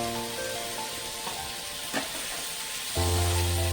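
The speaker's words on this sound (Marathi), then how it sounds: "हा कांदा छान आपल्याला ब्राऊन होईपर्यंत फ्राय करायचा आहे" Onion and chilli frying in a pan: a close, continuous sizzle with a hum underneath and a few stirring clicks, growing slightly louder toward the end, with no talk.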